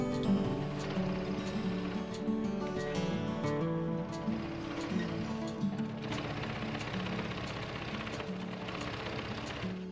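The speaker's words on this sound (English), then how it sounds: "Then it all goes to the sewing machine." A sewing machine stitches quilt coat pieces cut from repurposed damaged quilts, running steadily and close with a continuous mechanical whir and rapid needle rhythm, no talk.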